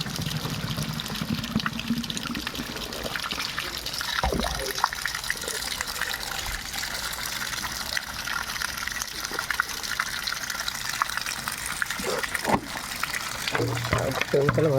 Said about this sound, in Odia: ଏଠି ପାଣି ପୁରଉଛି ପିଇବା ପାଇଁ ପାଣି ନେଇକି ଯାଉଛି